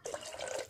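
Water splashes briefly from a small vessel into a cooking pot for ghee rice, a short close liquid gush lasting well under a second.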